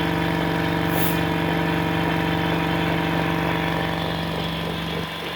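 Compressed air hisses steadily into a plasma cutting machine over a constant mechanical hum, loud and unbroken throughout before easing slightly at the end.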